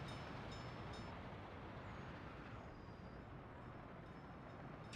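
A train passes close by a residential alley, a loud continuous rumble and rattle of rail cars filling the whole span without letup.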